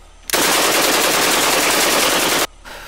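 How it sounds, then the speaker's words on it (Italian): Police units fire in a Farming Simulator 19 emergency robbery scenario: a loud, sustained burst of rapid automatic gunfire lasting about two seconds, starting and stopping abruptly. "Attenzione, tutte le unità stanno sparando."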